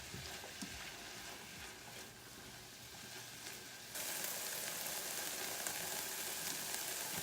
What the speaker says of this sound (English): Mix that up a little and let it cook up. Sweat those vegetables a little bit.